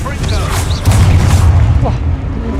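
A Confringo fire spell blasts in Hogwarts Legacy, a loud, dense booming roar that swells and rumbles for a couple of seconds amid other game sounds.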